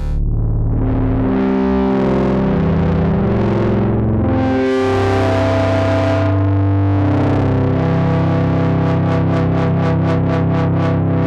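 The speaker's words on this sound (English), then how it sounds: "This is an analog distortion." A Novation Summit synthesizer plays through its analog distortion, giving loud, gritty, buzzing sustained chords and notes that end in a fast pulsing, rhythmic stutter.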